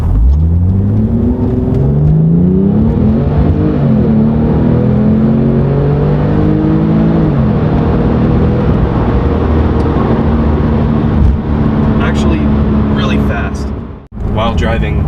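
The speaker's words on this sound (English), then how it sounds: "let's take it for a drive. How fast is a 996 turbo?" Porsche 911 996 Turbo accelerating hard on a drive, its engine and boost rising and falling through several gear pulls with a loud whir and rumble, under someone talking throughout.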